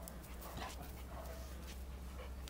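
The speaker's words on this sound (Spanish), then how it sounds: "Un perro muy casero" A domestic dog whimpers softly in a quiet indoor room, giving faint, brief high whines in a few short bursts with a little panting between them.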